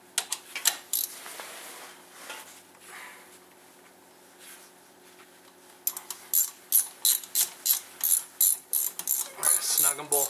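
A ratchet tightens brake caliper bolts on a 2001 Dodge Grand Caravan, with a few clicks, a quieter pause, then rapid, close bursts of ratcheting.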